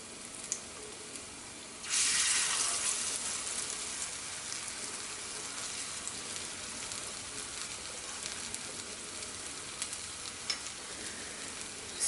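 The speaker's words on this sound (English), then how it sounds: "So this is frying up." A vegan patty frying in a pan, a steady sizzle that starts abruptly about two seconds in and continues evenly, close by, with no voices.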